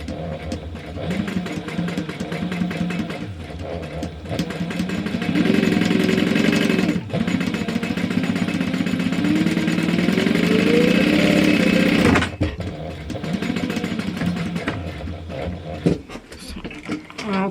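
Sewing machine top stitching the card slots of a wallet at a 4 mm stitch length, a steady mechanical whir that runs for long stretches with short pauses in between, close and fairly loud.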